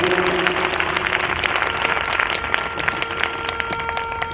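Congregation applauding during a church sermon, a dense continuous wash of clapping that holds steady and fairly loud throughout with no speech over it.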